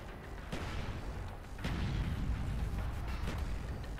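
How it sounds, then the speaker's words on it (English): Grenade explosion in Call of Duty: Black Ops: a dense, rumbling blast with low booming energy that swells after a couple of sharp cracks, sustained and heavy amid continuous gunfire-like battle noise. "That's a grenade. We don't like those."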